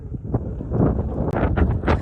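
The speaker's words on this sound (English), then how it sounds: "It's so windy and cold." Heavy, cold wind at Blue Mesa in Petrified Forest National Park buffets the microphone with a loud, low rumbling roar and gusty bursts, continuous throughout.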